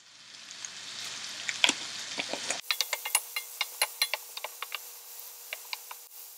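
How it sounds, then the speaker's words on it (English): Onions and green chili frying in a pan: a broad sizzle for the first couple of seconds, then sharper clicking scrapes and taps as the mixture is stirred, close up with no talk. "adding onions and green chili. Stir it once."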